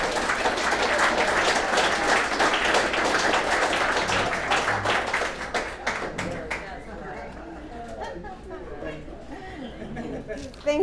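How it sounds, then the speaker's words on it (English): Audience at a sharing meeting applauding after a speaker, dense sustained clapping that gradually thins out, with chatter and talk over the tail end. "Let's give Tommy another round of applause."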